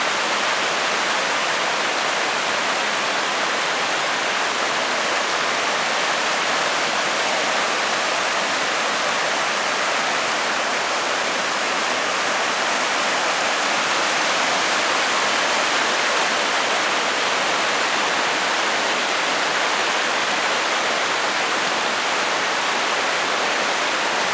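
Cold spring water at Beyaz Su near Sincik, Adıyaman rushes and splashes in a steady, loud, broadband roar that holds unbroken throughout, with no voices.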